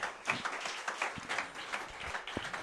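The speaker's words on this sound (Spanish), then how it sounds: "¿Será que usted puede aplaudirlo mejor?" A church congregation claps in an uneven patter of many hands, moderately loud and continuing across the whole stretch with a few louder bursts.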